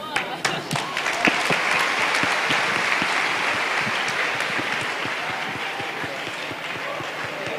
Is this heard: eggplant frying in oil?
no